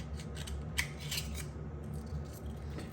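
A knife or small blade cuts the adductor muscle of a cooked, ginger-steamed oyster in its shell, heard as faint close scraping and snipping over a steady low background hum.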